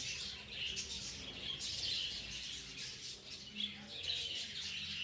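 Budgies in a breeding cage chirp and twitter continuously, a faint, busy wash of high tweets with occasional louder calls and no talking.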